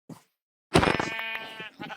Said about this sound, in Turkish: Baksanıza beyler koyunu ayrı bir de inek çıkarsa var ya tam olur ha.